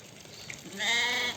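A single female lamb bleats once, a wavering, high-pitched cry lasting about half a second, fairly close.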